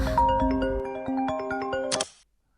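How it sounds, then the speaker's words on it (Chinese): A melodic phone ringtone for an incoming call, sustained tones stepping through a short tune before cutting off abruptly into silence. "红七爷，你这个时候给我打电话，是有什么事儿？"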